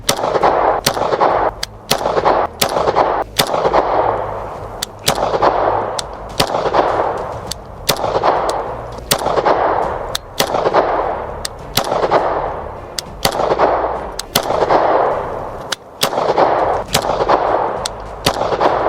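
Star 30M pistol firing, a long series of sharp, loud gunshots spaced at regular intervals of about a second, each with a brief echoing tail, with no voices.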